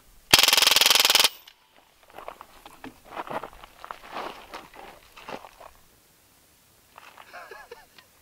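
An automatic air rifle fires a 20-pellet burst as one loud, rapid, continuous rattle lasting about a second. Quieter rustling and footstep-like shuffling follow.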